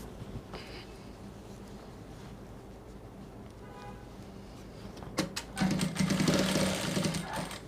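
A sewing machine top stitching bias binding on a wrap top hums along steadily, then surges louder near the end with a denser, faster run of stitches.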